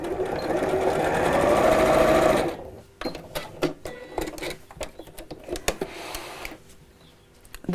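A sewing machine stitching a seam on a patchwork pincushion runs in a loud, steady whir for a couple of seconds, then stops, followed by lighter clicks and handling sounds.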